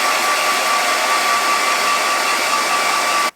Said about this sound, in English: Gonna get the hairdryer out, give them another blast